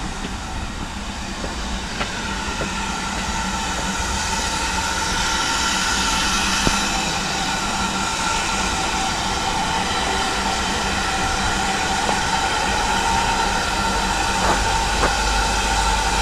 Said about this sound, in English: there's a steam train